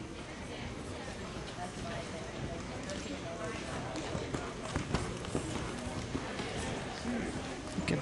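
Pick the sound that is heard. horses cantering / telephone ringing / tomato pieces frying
horses cantering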